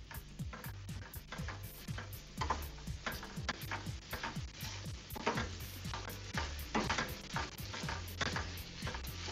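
Peppers and mushrooms sizzle in a pan while a utensil stirs them in quick, repeated scraping and tapping strokes over a constant frying hiss, close and moderately quiet.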